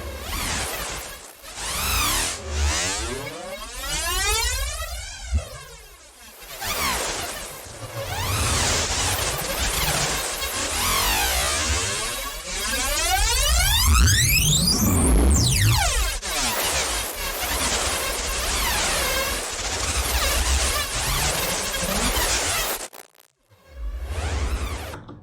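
Glitchy synthesized noise from Serum, dense harsh bursts and sweeping, warping tones that rise and fall continuously at steady loudness, with a brief dropout near the end.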